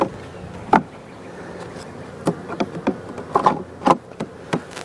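Honey bees from a hive that has turned aggressive hum and buzz steadily close by, with sharp bursts as individual bees fly past the microphone, and no talking.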